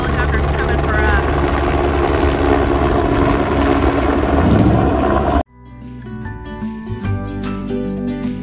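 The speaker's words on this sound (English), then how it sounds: "This looks like the helicopter's coming for us." A loud helicopter roars nearby with heavy rotor thumping in Port Aransas, then cuts off abruptly to a quieter scene with faint rumble.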